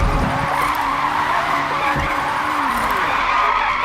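Car tires in Forza skid through a hard power slide on the Mt Fujimi Kaido mountain road, a steady loud squeal over a rising and falling engine drone, with no talk.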